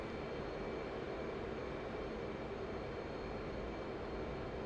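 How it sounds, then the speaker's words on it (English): An F/A-18 Hornet jet in DCS holds a steady full-afterburner roar, a dense continuous rushing drone with a faint high whine, unbroken and alone. "keeping the full afterburner going in the background"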